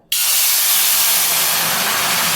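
Half a cup of water lands in a hot pan with a sudden loud hiss that continues as a steady, intense steaming sizzle.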